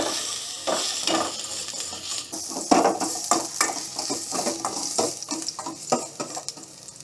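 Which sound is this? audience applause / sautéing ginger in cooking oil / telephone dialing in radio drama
sautéing ginger in cooking oil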